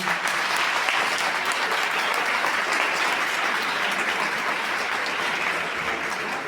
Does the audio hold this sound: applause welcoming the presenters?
yes